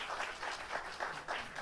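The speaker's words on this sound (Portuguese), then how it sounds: "Uma salva de palmas" Applause from the audience at a public accountability discussion event welcoming morning walkers, a steady wash of many hands clapping at moderate distance, fairly faint, with no speech over it.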